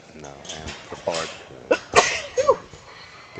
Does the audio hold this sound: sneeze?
yes